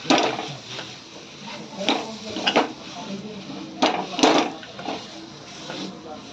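Mango burfi mixture with ghee and dry fruits being stirred in a pan, irregular scraping and clinking knocks of a spoon against metal, close and moderately loud over faint background noise.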